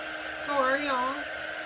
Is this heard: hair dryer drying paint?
yes